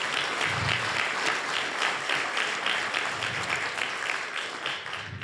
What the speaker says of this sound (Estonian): anname neile suure aplausi